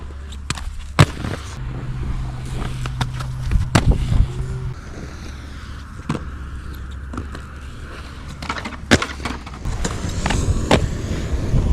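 Inline skates fitted with downsized Oysi frames ride skatepark transitions, giving rolling wheel rumble broken by sharp clacks and impacts at irregular intervals, with a low hum running underneath.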